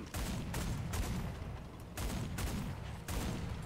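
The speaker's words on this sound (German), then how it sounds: "Oh, ich knall einfach Thorsten ab" Sustained bursts of rapid gunfire in the War Thunder video game, loud and dense, coming in roughly one-second volleys with short dips between them.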